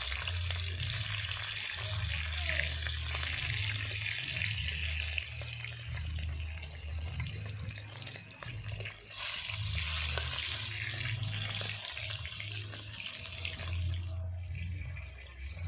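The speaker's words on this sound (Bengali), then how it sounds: "বাকি মাছগুলো ভাজা করে নেব।" Remaining pieces of tilapia frying in hot mustard oil, a steady close sizzle with continuous bubbling crackle throughout, no talking.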